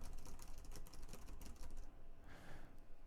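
Quick, faint taps on a computer keyboard come as a run of clicks, then a pause and a softer rustle, heard close in a quiet room with no talking.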